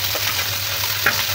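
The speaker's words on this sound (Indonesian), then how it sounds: "wajan kita kasih minyak nah ini wajan mulai memanas ya" Oil heating in a frying pan on a stove gives a steady close sizzle and crackle with a low hum beneath and a brief louder pop near the end.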